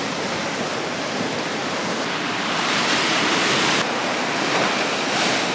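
Rough ocean waves break on the shore in a loud, continuous broadband wash, surging louder as fresh breakers roll in.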